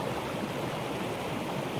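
Running water in the runoff of a lake in Snowdonia, a steady, close rushing and gurgling stream sound that stays even and loud throughout, with no voices.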